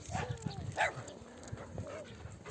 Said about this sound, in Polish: piesek sąsiadów